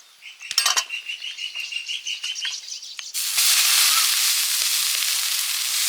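Ragi adai with greens roasting on a hot pan, a light crackle and scattered ticks that swell after a few seconds into a loud, steady close sizzle.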